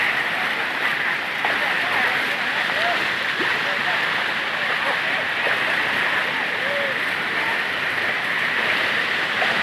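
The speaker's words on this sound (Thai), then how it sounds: "น้ำตก" Water rushes over a waterfall and stream at Huai Sanaeng in Surin, flooded and overflowing, as a constant loud broadband roar with faint voices beneath it.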